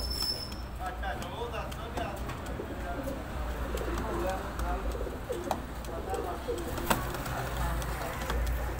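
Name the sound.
Nawab pigeons cooing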